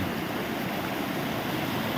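Water flowing steadily down into a reservoir, a continuous broadband rushing wash, close and even, with no voices.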